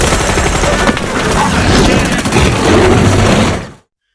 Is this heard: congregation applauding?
no